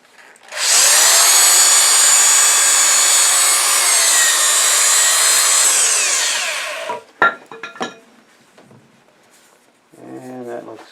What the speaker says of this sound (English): And I switched from a 3-inch to a 2-inch to get inside the bowl along the walls.